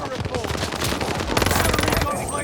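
Rapid-fire barrel sniper rifle firing in Call of Duty Vanguard, a loud, dense stream of quick shots that runs through the whole stretch and builds in intensity toward the end.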